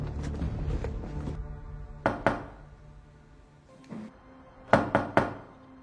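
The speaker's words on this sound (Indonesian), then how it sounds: "orang-orang asing tiba-tiba mengetuk pintunya" Knocking on a house door in a film scene: a pair of sharp raps, then a quick group of three, close and distinct, after a few duller thuds at the start.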